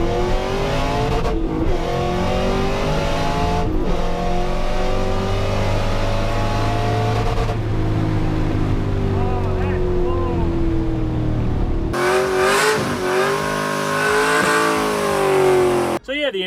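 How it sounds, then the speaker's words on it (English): A Camaro fitted with an LSA supercharger runs at the track, its engine roaring loudly and continuously with shifting pitch as it revs, then changing abruptly to a rougher, brighter tone near the end. "last night the Camaro went to the track for the first time with the LSA blower"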